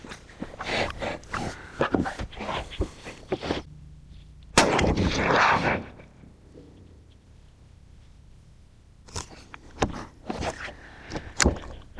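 A .270 rifle loaded with 150-grain rounds is fired off a lead sled at a range, giving loud, sharp, booming reports separated by pauses, some with lingering rumble, and no voices.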